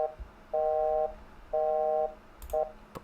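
Telephone busy signal inside a horror video game about alien abduction: three short, evenly spaced tone bursts, moderately loud and clear, with a faint click at the end and no speech.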